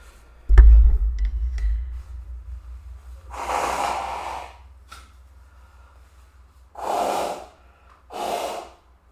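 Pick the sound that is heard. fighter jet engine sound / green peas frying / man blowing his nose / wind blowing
man blowing his nose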